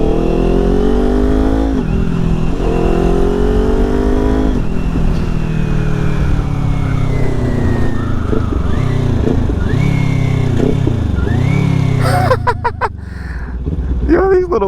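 A BMW S1000RR sport motorcycle revs hard and climbs through several gears, its engine note rising and dropping with each shift, loud and close, before easing off into wind noise near the end.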